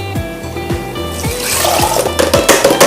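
Water poured into a rice cooker over dal, a close splashing and trickling fill that grows busier and louder toward the end, over a low pulsing hum in the background.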